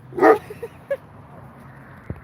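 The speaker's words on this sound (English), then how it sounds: "I'll move on so they quit barking." Several dogs barking outdoors, one loud burst near the start followed by a few shorter, fainter barks and yips spaced through the rest.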